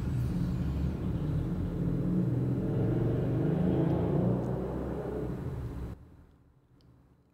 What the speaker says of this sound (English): I'm waiting for this motorcycle to go by.